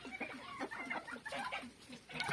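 Small hens and turkeys cluck softly while pecking at a mixed mash and corn, a steady run of short, close clucks from several birds with no talk.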